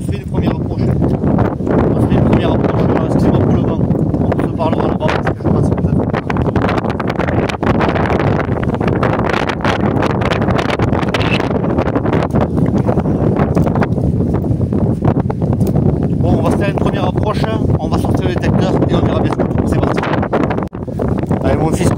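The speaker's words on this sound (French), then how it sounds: "alors il y a du vent, c'est pas agréable" Wind buffets a microphone continuously at an old ruined farm from the 1940s, a loud, steady rumble with gusty fluctuations throughout, and a person occasionally speaks beneath it.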